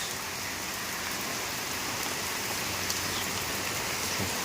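A heavy downpour hisses continuously, rain drumming on nearby surfaces at a constant level throughout.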